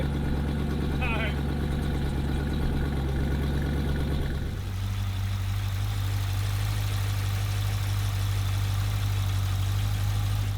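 A Ferris Bueller Ferrari replica car, sold at a Copart salvage auction, sits idling with a steady, low, droning engine hum that shifts slightly in tone partway through and continues evenly to the end.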